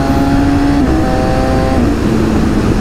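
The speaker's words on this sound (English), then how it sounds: "The noise of the bike, it's awesome." A Suzuki GSX-S750 sports bike's inline-four engine revs loud and close, a steady high-pitched drone that holds, then dips slightly in pitch near the end, with no voices.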